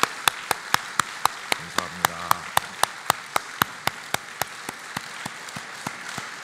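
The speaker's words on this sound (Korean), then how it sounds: "우리 감사하고 축하하는 박수를 한번 하겠습니다" A congregation at a dawn prayer service in a church claps in steady, evenly spaced beats that fill the hall. A voice briefly speaks over the applause.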